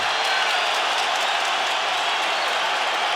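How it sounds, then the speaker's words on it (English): A crowd at a UFC event in Brooklyn roars for two fighters in the final minute, a dense, steady wash of cheering and applause that holds at an even level throughout with no talking over it. "Brooklyn crowd getting behind these 2 warriors."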